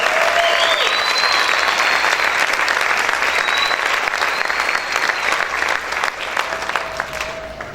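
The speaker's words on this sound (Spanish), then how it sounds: "¿Cuántos pueden aplaudir fuerte al Señor?" A large church congregation claps loudly and steadily, a dense wash of applause with a few faint whoops and voices, tapering slightly toward the end.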